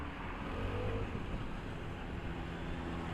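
A tuned TMR engine on an Italjet Dragster 250cc scooter drones steadily and loud while riding on a touring trip, with no talk over it.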